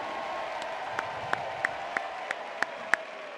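Crowd applause at an Island Fights combat event after a three-round fight, a steady wash of clapping with a few sharper individual claps standing out near and moderately loud, no talk.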